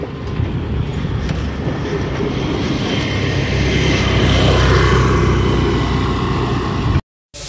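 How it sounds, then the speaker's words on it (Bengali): A train rumbles past a railway level crossing, a loud, steady broadband roar with rattling wheel noise that builds toward the middle and holds, then cuts off abruptly near the end; no voices. "এই সময়টা বেরোলেই না ঠিক ট্রেনের গেট পরে ট্রেন যায়।"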